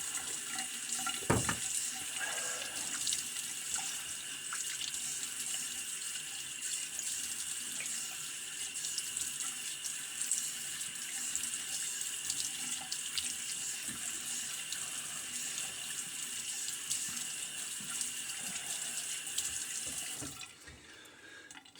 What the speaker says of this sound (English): Let me get a rinse here.